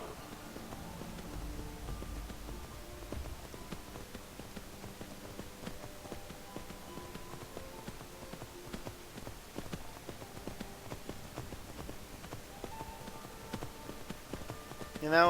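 Horse hooves while riding in the video game Skyrim: a quiet, continuous patter of clip-clop steps, with faint background game sounds.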